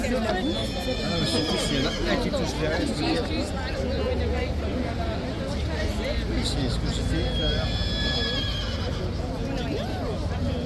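A horse whinnies amid a noisy crowd at Horse Guards, with steady babble of voices and some hoof clatter throughout.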